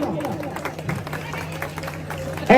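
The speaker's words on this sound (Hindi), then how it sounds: "ताली बजाइए।" Audience at a Delhi political speech about Prime Minister Modi clapping in loose, uneven bursts, moderately loud and mixed with ongoing voices and crowd chatter.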